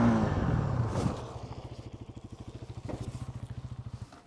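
A Bajaj Pulsar NS200 motorcycle sets its rear tyre down gently after a stoppie, with a brief scuff and clatter followed by a low, steady idling putter close by.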